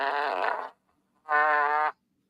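A wet-sounding fart, heard as two loud, buzzing bursts with a short silent gap between them, each lasting over half a second, close up with no talk.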